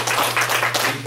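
A church congregation at a Sunday service claps together in a steady, dense wash of applause, with a low hum underneath.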